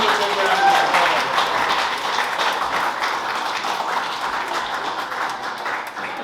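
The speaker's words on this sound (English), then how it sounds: "Give them a big round of applause" An audience applauds a guest speaker at a club meeting, dense sustained clapping filling the room and slowly thinning out, with some voices underneath.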